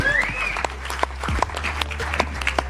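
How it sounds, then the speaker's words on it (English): A small audience claps at an MMA banter show, scattered and uneven hand claps with a few sharp close claps, mixed with background voices and studio noise. "Can we give a round of applause for Bilal?"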